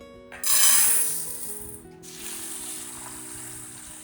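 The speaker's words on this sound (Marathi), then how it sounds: "डाळ व्यवस्थित धुवून घ्यायची" Urad dal being washed in water, with a burst of rushing splashing and swishing grains near the start, then a steadier softer rinsing swirl, close and without talk.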